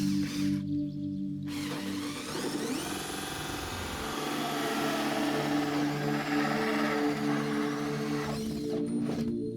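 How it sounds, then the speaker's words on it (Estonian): A steady power tool whirs continuously for several seconds, a close mechanical drone with a shift in pitch partway through. "Natukene puurimist"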